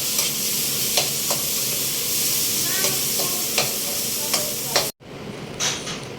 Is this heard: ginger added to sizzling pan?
yes